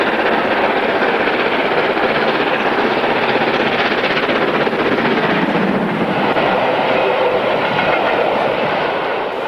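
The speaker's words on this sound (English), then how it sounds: "here's 61264 again, this time with the Yorkshire Coast Express" Steam locomotive 61264 hauling the Yorkshire Coast Express between York and Scarborough, a loud, steady rumble of train and carriages passing close by, with faint rhythmic wheel clatter throughout.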